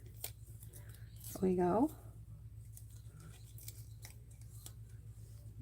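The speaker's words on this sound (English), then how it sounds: "We'll cut this out." Scissors snip out a paper piece for a handmade double-point fun-fold card, a short crisp cutting burst partway through, heard close and under quiet talk.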